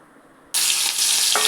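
Sliced kakrol (spiny gourd) drops into hot mustard oil and a loud, close sizzle bursts out suddenly after a quiet moment, then hisses steadily.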